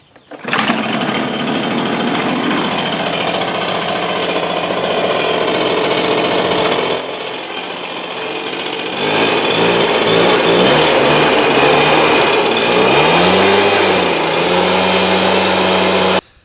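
A loud power tool runs steadily and close by while cleaning a car engine bay, its high-pitched whine shifting in pitch partway through, with no talking.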